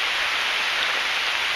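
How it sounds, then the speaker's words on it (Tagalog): Heavy rain pours on a foggy hiking trail in the Kettle Moraine South Unit of the Ice Age Trail, a dense, loud, unbroken hiss of drops with no voices. "Kusog kayong ulan."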